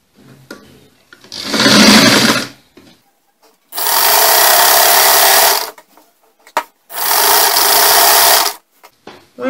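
Sewing machine stitching two flounce pieces of fabric together, running in three loud, steady bursts of about two seconds each, separated by short pauses with faint handling sounds.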